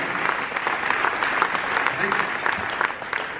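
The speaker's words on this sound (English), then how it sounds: "Please give them a round of applause." An audience at an evening Canadian Red Cross humanitarian award event applauds the honorees and the Premier, a dense, steady wash of many hands clapping that continues without pause from start to finish.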